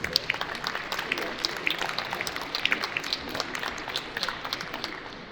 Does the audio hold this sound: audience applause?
yes